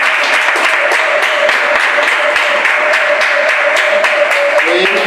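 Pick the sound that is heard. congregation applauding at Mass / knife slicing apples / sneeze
congregation applauding at Mass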